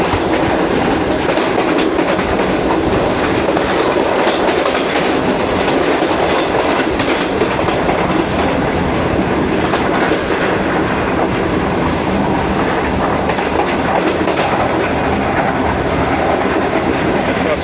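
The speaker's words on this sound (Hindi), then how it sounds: "तो ट्रेन हमारी साउथ पंजाब में दाखिल हो चुकी है" Pak Business Express passenger train running on rails through the desert of South Punjab, with a steady, loud rumble and rhythmic clickety-clack of the wheels carrying on throughout, heard from inside the moving carriage.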